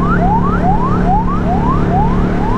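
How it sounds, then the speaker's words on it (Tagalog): Ambulance siren wails loud and close in city traffic, its rising sweeps repeating steadily over a constant low road rumble. "pagka may ambulansya, paunahin nyo na"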